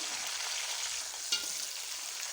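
Tomatoes and green chilies are stirred into browned frying onions for a chicken and potato pulao, giving a steady, soft hiss of frying with one brief scrape of the spoon partway through.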